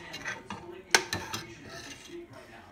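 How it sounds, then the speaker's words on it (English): A spatula scrapes and taps against a metal can of condensed milk in a kitchen, producing soft scraping strokes and a few sharp metallic clinks, quiet and close. "so it's easy to scrape the remaining condensed milk at the bottom"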